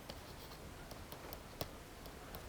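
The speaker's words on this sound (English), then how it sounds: "let me just write it down" An equation being written by hand, heard as faint, scattered scratchy ticks and taps of the writing tool in a quiet room, with no talking.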